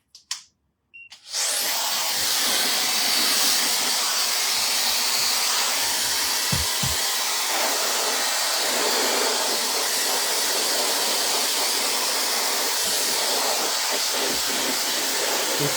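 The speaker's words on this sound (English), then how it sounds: "I'm just going to use the blow dryer for a sec." A blow dryer runs steadily while drying a woman's short layered haircut, a loud continuous airy hiss and whir that starts after a couple of brief handling clicks and holds for the rest of the stretch.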